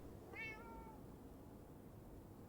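A single short cat meow from a cat in Minecraft, faint and slightly distant against steady background hiss, followed by quiet ambience.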